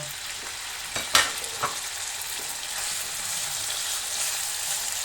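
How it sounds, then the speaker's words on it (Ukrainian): Chopped meat frying in a hot pan for spaghetti with vegetables, a steady broadband sizzle throughout with a few brief stirring knocks early on. "І обсмажуємо його до готовності."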